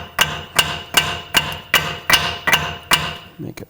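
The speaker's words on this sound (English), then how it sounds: "Going to hammer in this end over here" Sharp metallic hammer blows, about eight evenly spaced strikes, drive a 19mm socket onto the ball joint of a front lower control arm on a 2012-2017 Toyota Camry, close and loud with no talk.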